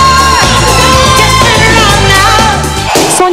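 A crowd of thousands at a free outdoor concert yells and whoops loudly, a dense wall of cheering voices mixed with tonal, singing-like sound.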